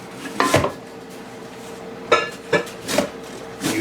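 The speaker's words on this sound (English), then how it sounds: "You hear wifey in the back shredding up zucchini" Kitchen work with zucchini being shredded in the background, heard as a few scattered clinks and scrapes of utensils and dishes at moderate distance, with quiet pauses between the separate knocks.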